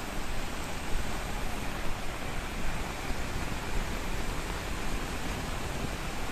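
Savdav waterfall in Sindhudurg, Konkan, running with heavy water, gives a steady broadband roar. The wash is dense and continuous throughout, and nobody speaks over it.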